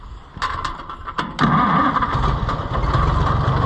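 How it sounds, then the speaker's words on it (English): An Oliver 880 tractor engine with a repaired throttle and governor cranks with a few short bursts, then catches and settles into a loud, steady, low idle close by. "We want to hear it run and see if we accomplished our task with governor stuff and things."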